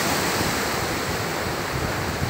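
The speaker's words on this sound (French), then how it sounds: "Et la mer est derrière, à quelques mètres. À 6 mètres, on va dire. Il y a toute la mer. On entend les vagues et tout." Ocean surf on the beach at Granja, Portugal, a continuous loud wash of breaking waves only a few metres away, mixed with wind buffeting the microphone.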